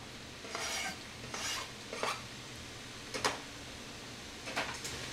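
A spoon stirs onions and mushrooms in a hot oiled pan, giving quiet scraping strokes at an uneven rhythm over a faint sizzle, close but soft.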